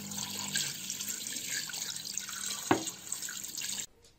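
Water runs steadily from a tap into a pot for chicken soup, a continuous hissing stream with a single clink partway through, then the flow cuts off abruptly near the end; no one speaks.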